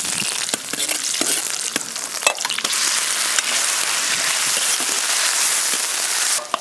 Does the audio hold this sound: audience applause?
no